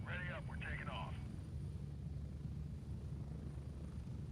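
A video game helicopter drones in a low, steady rumble throughout, with a short burst of speech-like voice near the start.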